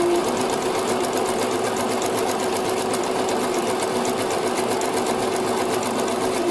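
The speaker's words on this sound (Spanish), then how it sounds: "primero voy a pasar zigzag todo alrededor" A sewing machine runs a zigzag stitch around the edges of school uniform fabric, setting 3, width 3.5, in a steady continuous whir that stays close and even throughout with no voices.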